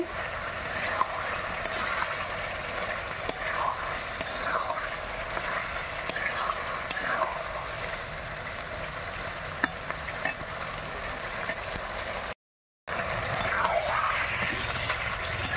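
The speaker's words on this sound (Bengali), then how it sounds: "তো বন্ধুরা, চিকেন কষা হচ্ছে।" Chicken kosha sizzles and is stirred steadily in a pot over a wood fire, a continuous close frying hiss with scraping strokes throughout and one brief dropout near the end.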